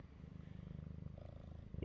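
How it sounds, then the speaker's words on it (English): A soft, steady purr pulses close by in a quick rhythm, low and quiet. "Can you hear the purr?"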